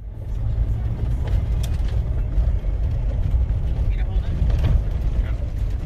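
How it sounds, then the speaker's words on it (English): Jeep crawling off-road near Quartzsite, a steady low rumble of engine and rough ground throughout, with faint clunks and bumps, heard from inside the vehicle. "doing a little bit of off-roading with our friends"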